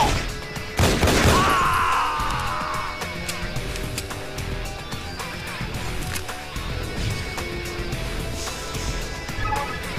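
Gunfire in the Infernal video game opens with a loud burst of shots and crashing impact, followed by continuing chaotic combat noise with scattered cracks and clatter at a steady mid level.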